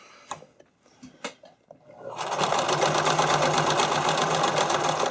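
After a few light clicks and handling noises, a sewing machine starts up and runs steadily, stitching a wide zigzag onto elastic with a loud, fast, continuous rattling hum.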